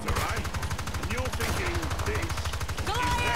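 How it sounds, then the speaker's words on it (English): Rapid automatic gunfire from the video game Evolve rattles in fast repeated bursts throughout, mixed with game effects and people talking over it. "Oh, well, what you shooting at, Hank?"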